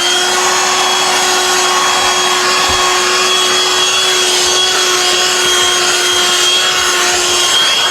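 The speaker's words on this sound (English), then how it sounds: "Instead of like paying every time you want to vacuum your car, just buy this." A portable vacuum cleaner runs steadily inside a car, sucking up sand with a continuous loud whine and broadband rushing hiss that holds level throughout, with faint rattles of debris.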